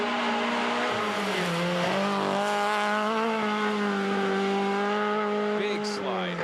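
A 1994 rally car on a mountain stage slides through a big drift with the throttle held wide open, its engine droning steadily and loud close by, pitch wavering slightly through the slide.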